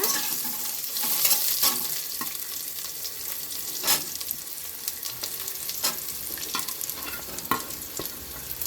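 Bitter gourd sautés gently in a pan on low heat, giving a soft continuous sizzle broken by occasional clinks and scrapes of stirring, close and fairly quiet with no voices.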